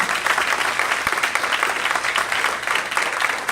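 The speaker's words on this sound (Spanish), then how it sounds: "denle palmas al Señor de la gratitud de Dios." A church congregation applauds during a sermon, a loud, dense, continuous roar of many hands clapping, close and steady for the whole stretch.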